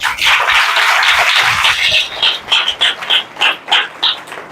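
An audience at a religious talk claps for themselves. Loud, dense applause gives way to a series of rhythmic, unison claps.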